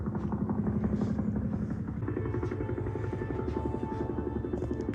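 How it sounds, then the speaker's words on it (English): A helicopter's rotor thumps steadily, loud and close, beneath a dense layer of music and other soundtrack noise in the Dolby Atmos mix of the film Rebel Ridge. "You get a helicopter up there."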